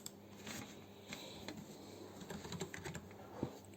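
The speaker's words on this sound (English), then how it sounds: "So let us type our first program" Close computer keyboard typing as a first Python program is entered in VS Code, a quiet uneven run of key clicks with brief pauses.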